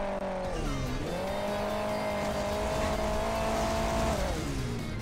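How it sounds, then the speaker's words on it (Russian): A car engine in the Hill Climb Racing 2 video game revs hard and steadily, its whining drone dipping in pitch, then holding high before easing down, loud and continuous. "Когда не надо скорость, так он газует, как, я не знаю, как полоумный."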